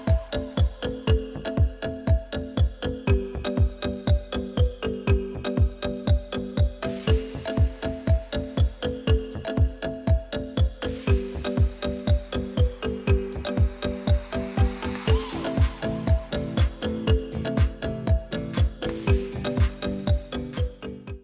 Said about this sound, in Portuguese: Vamos costurar a toda a volta o foin para agarrar aqui